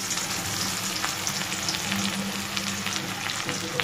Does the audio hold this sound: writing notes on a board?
no